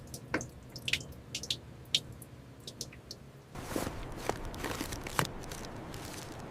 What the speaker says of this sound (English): Water is even dripping from the steering wheel.